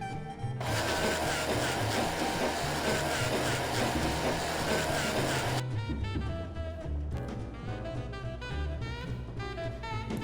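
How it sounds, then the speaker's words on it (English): A bone grinder machine in the video game Grim Fandango runs with a loud, continuous mechanical whirring grind. Its tone shifts into a choppier, more rhythmic churn partway through, with no voices. "Let's put the bones in it. Put the bones in it. Grind the bones."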